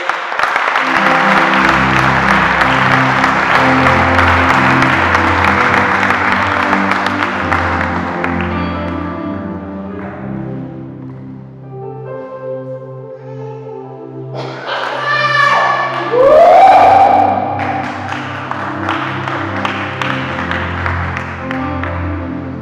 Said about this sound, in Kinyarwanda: Nongera umuhobere amashyi ya Paul Kagame